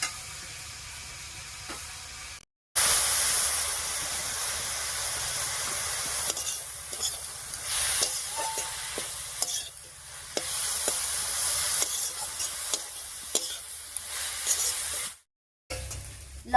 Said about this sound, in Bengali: লবণ হলুদ দিয়ে পেঁপেটা খুব ভালো করে মিশিয়ে নিয়েছি।